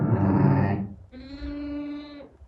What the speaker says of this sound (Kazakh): Қозы жаңы туылған қозы.